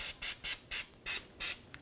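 Copper anti-seize sprays onto a Toyota Tacoma inner tie rod in about seven quick, evenly spaced hissing bursts, close and crisp with short pauses between each.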